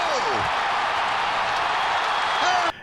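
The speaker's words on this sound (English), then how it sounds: "Now listen to that crowd." A baseball stadium crowd roars after a record-setting home run, a dense, steady wall of cheering that holds loud throughout before cutting off abruptly near the end.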